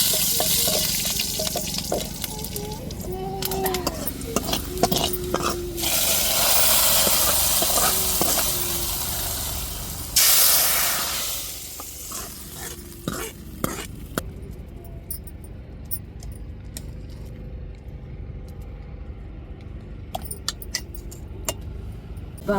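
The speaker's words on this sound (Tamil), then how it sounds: "தாளிப்புக்கு கருவேப்பிலை சேர்த்துக்கிறோம்" Curry leaves hitting hot tempering oil right after mustard seeds, for an Aadi Amavasai home meal, give a loud broad crackling sizzle for roughly ten seconds, then the frying settles into a quieter bubbling with scattered clinks and scrapes.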